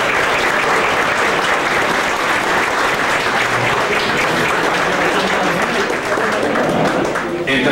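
Audience applause fills a hall at a gathering of lawyers: loud, dense, sustained clapping from a large crowd with no breaks, a voice faintly audible beneath it.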